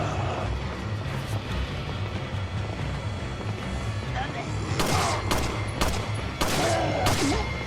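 Gunfire in the video game Resident Evil 4 Separate Ways: a rapid burst of loud shots in the second half, over a steady low game background rumble.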